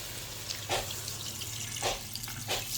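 Steady running water streams from a tap, with a few louder splashy surges as it fills a cooking pot nearby for chicken soup.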